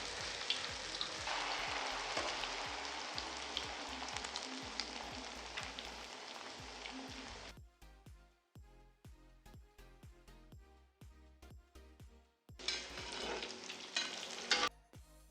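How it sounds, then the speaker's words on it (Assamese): Paneer dipped in flour batter frying in hot oil in a wok, a loud continuous sizzle close by that briefly drops to crackling pops and spatters before surging again. "তাৰপিছত এখন কেৰাহীত অলপ তেল গৰম কৰি পনীৰখিনি ময়দা ঘোলটোত জুবুৰিয়াই গল্ডেন ব্ৰাউন হোৱাকৈ ফ্ৰাই কৰি লৈছোঁ।"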